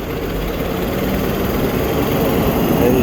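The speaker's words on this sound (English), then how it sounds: "Hold it down to like 1500 RPMs." An engine runs loud and steady at about 1500 RPM throughout, a close, continuous drone with no pauses.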